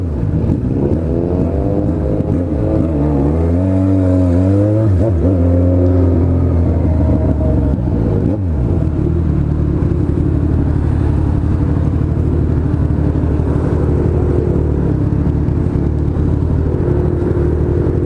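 A Kawasaki Z1000 motorcycle with its exhaust pipe removed, its raw engine loud and close, rising and falling through several revs before settling into a steady, rough drone.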